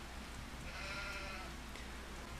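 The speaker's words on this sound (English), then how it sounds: "Sheep doing well. You're even starting to produce a bit of wool." Sheep bleating in the Farming Simulator 25 video game, a faint drawn-out bleat rising briefly in the middle over a steady low background hum, with no talking.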